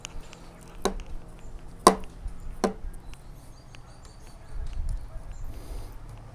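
Raw chicken pieces for BBQ being cut on a board, a few sharp knife chops spaced about a second apart, close by, with soft low rustling between.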